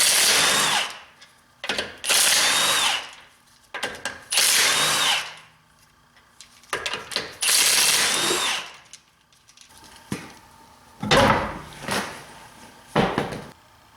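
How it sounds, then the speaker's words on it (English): Power tool removing a front wheel on a BMW 5 Series F10, loud bursts of rattling drill-driver whirring in repeated spurts with short pauses between, close and alone. "So I'm going to take the wheel off so we have better access."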